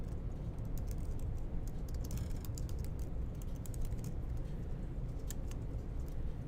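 Fast typing of a name on a computer keyboard, a steady run of light key clicks with no talking.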